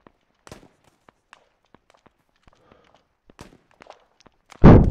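Sparse sharp pops and thuds of ArmA 3 video game gunfire, like distant shots, scattered across a quiet background, ending in a sudden loud, close blast.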